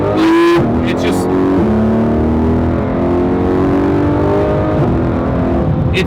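A Porsche 991.1 GT3 RS flat-six in PDK Sport mode rises loudly through the revs with smooth gear changes, the engine note climbing and falling as the car accelerates under a steady drone.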